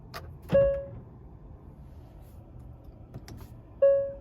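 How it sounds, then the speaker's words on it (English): Hyundai IONIQ 5 doors auto-locking on shifting into drive: two sharp, quiet lock clunks a few seconds apart, each followed by a short chime, in an otherwise quiet cabin. "Go to drive, it's gonna lock."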